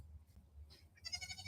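Goats in a goat barn give faint bleats. The clearest, wavering bleat comes near the end over a low, steady barn rumble, and no one speaks.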